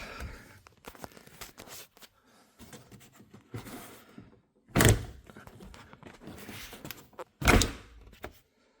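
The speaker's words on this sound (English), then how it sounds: "some real sharp jabs on the door here is really about all it takes" Sharp thumping jabs against the rear door panel of a 2018 Hyundai Sonata while it is being worked loose, with two heavy, loud blows standing out among lighter knocks and rustling handling noises.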